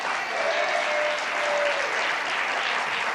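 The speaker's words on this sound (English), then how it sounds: "give yourself a round of applause" An audience applauds public housing residents at a New York government announcement, a dense, steady wash of clapping that fills the room from start to finish at close range.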